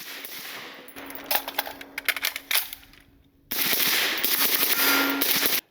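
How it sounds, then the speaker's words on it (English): Suppressed 5.56 rifle fire through a B&T XH RBS Ti titanium forward-venting suppressor with low-flash end cap, outdoors: a few separate sharp reports, then a dense rapid string of shots, loud and close with no talk. "I love the way this suppressor sounds."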